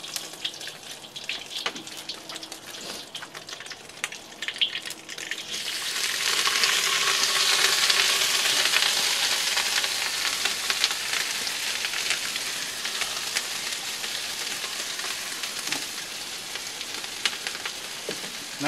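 Rice tipped into hot oil in a wok on a barbecue setup, starting with light clatter and handling noises, then a loud steady sizzle that swells and slowly eases, with no voices.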